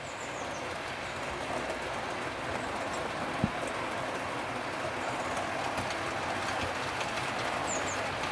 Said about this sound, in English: we just happen to have a train coming round